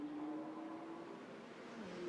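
McLaren race cars at the Nürburgring, a sustained engine drone holding a steady pitch and then dropping slightly as a car moves away, faint and at a distance with no talk.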